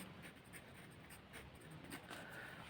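Soft, continuous scratching of a pen writing labels on an age-sex pyramid chart, faint and steady with no voices.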